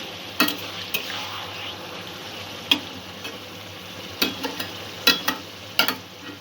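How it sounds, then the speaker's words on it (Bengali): Chicken curry ingredients being stirred in a pan for a coconut-milk chicken dish, with a steady low sizzle broken by several sharp scraping clicks of the spoon against the pan; no voices. "সব কিছু ভালো করে মিক্স করে নেব।"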